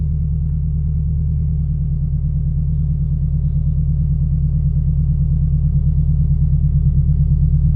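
Steady low engine rumble from a manual-transmission car idling, even and continuous at close range with no revving.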